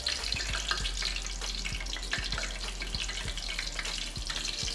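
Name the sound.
water splashed into hot frying grease, sizzling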